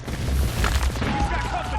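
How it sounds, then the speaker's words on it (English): A grenade goes off in Metal Gear Solid 4 inside a dense, booming wash of battle noise, with gunfire rumbling throughout the brief moment. "Grenade!"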